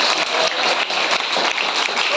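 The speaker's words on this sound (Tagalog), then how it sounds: "Magusog ka palakpak para sa atong buhay nito." A church congregation at a second church anniversary service in Basyaw breaks into loud, sustained applause, a thick wash of many hands clapping that holds steady throughout.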